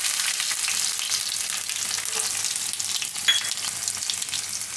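Garlic, mustard seeds and cumin sizzle steadily in hot oil over a lowered flame while a rice dish is cooked, a continuous close, bright crackling hiss with a few faint pops and no speech.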